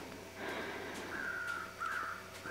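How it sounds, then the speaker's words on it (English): Crows caw in a snowy video game setting, several harsh calls coming in a loose series over a faint steady background, with no talking. "Shut up, crows."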